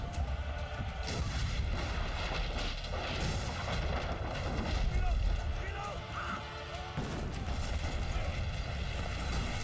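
Cannon fire and explosions battering a siege tower in the video game Assassin's Creed Brotherhood, repeated heavy booms over a dense layer of rumbling battle noise, with a voice talking throughout.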